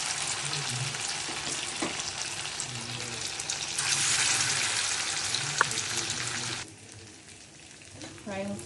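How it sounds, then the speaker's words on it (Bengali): Chhena koftas stuffed with dry fruit frying in hot oil: a steady close crackling sizzle with occasional utensil clinks, swelling midway and then dropping to a softer bubble near the end. "দিয়ে এখন একটা একটা ফ্রাই করব।"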